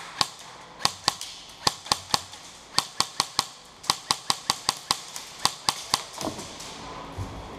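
Airsoft guns firing outdoors at a field game, a quick series of about two dozen sharp snapping shots in irregular clusters, fairly close and crisp, with faint movement noise at the end.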